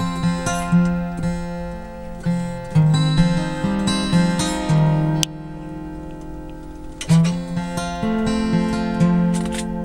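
Live performance of a song on a radio program, with steady instrumental tones and plucked notes running throughout, no singing yet, at moderate, even loudness.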